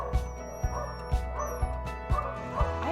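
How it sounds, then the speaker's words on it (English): Puppies at an adoption center, a series of sharp yaps and yips in an uneven rhythm, roughly every half second, with faint whimpers and high squeaks between them. "in the hurly-burly of an adoption center, full of yapping puppies"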